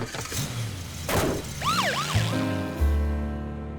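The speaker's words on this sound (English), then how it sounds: "George always wanted to ride in an ambulance" Cartoon ambulance siren wailing in rising and falling sweeps, loud and close, over a rumbling vehicle with some background clatter.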